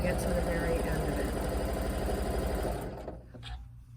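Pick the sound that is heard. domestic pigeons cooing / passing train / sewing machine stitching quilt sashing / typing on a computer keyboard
sewing machine stitching quilt sashing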